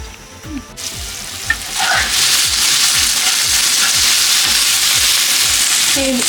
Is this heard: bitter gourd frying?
yes